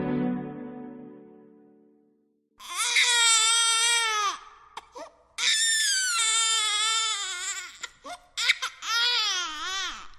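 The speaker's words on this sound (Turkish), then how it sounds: "Gecenin orta yerine bir yerlerden bir bebek çığlığı düştü." A baby cries loudly in a Turkish audiobook reading of a short story, with three long wailing bursts and brief breaks between them after a low murmur at the start.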